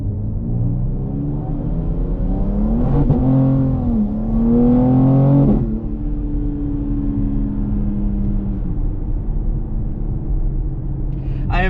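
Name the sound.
ADRO M4 Competition car accelerating, tires spinning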